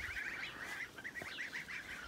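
Several geese honk repeatedly in a quick, chattering series, fairly close, over a low background hum.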